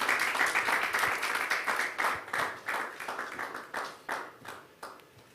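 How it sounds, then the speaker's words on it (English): Audience applause greets a panelist at a civic forum, with rhythmic bursts of clapping from a modest crowd that swell and fade in uneven waves, the individual claps growing more separated and sparse toward the end. "A round of applause, please, as he comes."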